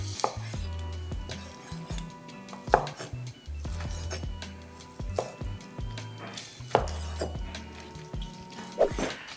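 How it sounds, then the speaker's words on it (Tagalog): Meat being chopped into smaller pieces on a board with a knife before sautéing with onion and ginger, sharp close knocks in an uneven rhythm over a steady low background hum, with no talking. "after cutting your meat into smaller pieces"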